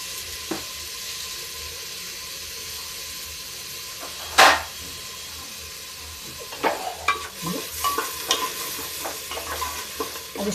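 Rice stirred and fried in a pan with garam masala, black pepper, cloves, cumin and kasuri methi, a soft steady sizzle with one sharp scrape near the middle and clustered stirring clatters toward the end.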